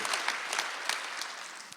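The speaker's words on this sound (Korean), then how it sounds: "박수 한번 주세요." A church congregation claps together during a Sunday worship service, a dense steady round of applause filling the room throughout, with no voices rising above it.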